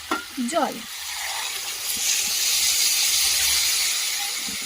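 Mixed vegetables with cauliflower stalks in a pan hit with water, a short voice at first, then a loud steady sizzling hiss that swells and holds.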